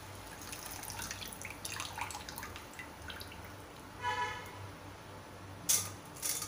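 Soaked rice for jaggery anarse lifted out of its water, heard as soft, close drips and trickles with small splashes spaced through a quiet kitchen.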